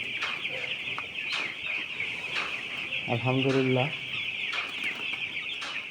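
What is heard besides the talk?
chickens clucking in farm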